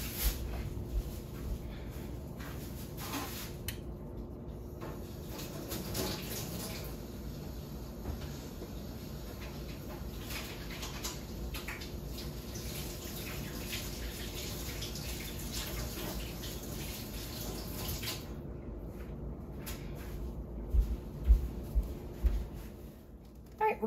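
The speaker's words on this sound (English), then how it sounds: "let me go ahead and give my hands a quick wash" Hands washed under a running kitchen tap, a continuous steady stream of water with occasional splashes and a few clunks near the end.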